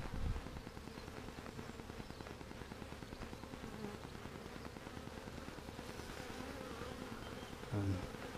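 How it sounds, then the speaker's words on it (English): A swarm of honeybees buzzes close by while some crawl over a meter, a dense, continuous droning hum with brief louder passes near the start and end. "This bee's crawling over the meter now"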